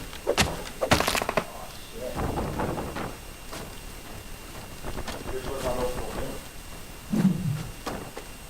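Tool chops and thunks against a plant in the survival video game Grounded: a few sharp hits early on, then scattered impacts over game ambience and wind-like noise, with a voice talking in between.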